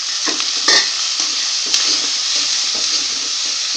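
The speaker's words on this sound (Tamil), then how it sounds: "தக்காளி நல்லா வணங்கட்டும்" Onions and tomato sauté in a hot pan for a potato tiffin curry, with steady broadband sizzling and a few louder stirring scrapes near the start. No one speaks.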